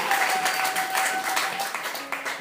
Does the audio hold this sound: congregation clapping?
yes